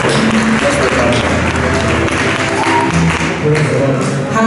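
Loud, sustained clapping by a church congregation at an Easter convention in Ghent, dense and continuous with a rhythmic pulse, voices mixed in underneath.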